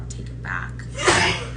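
A single sharp sneeze bursts out near the end, close and fairly loud, just after a soft spoken phrase.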